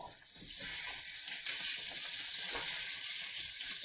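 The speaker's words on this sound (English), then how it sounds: "So now at this stage, Maya, you can pour in the fish." White fish sizzling and frying in hot oil, a steady crackling hiss close up with faint stirring clatter underneath.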